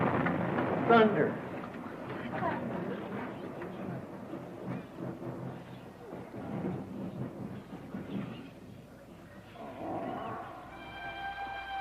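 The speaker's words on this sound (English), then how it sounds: "thunder." Thunder rumbles in a dramatized biblical flood scene before the rains begin, a loud, dense roll lasting about ten seconds with a sharp crack near the start, dying into a fainter tail with a tonal note at the end.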